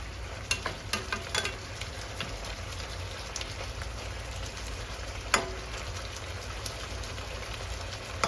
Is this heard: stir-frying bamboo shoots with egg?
yes